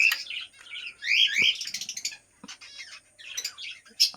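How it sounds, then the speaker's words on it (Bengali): Pet finches in a home aviary chirping in quick, bright bursts and twittering runs, close by and loud, with no voices. "ফিঞ্চ, আমার ফিঞ্চ আছে"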